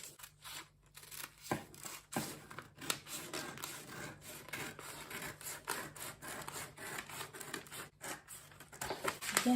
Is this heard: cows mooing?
no